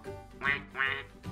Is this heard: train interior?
no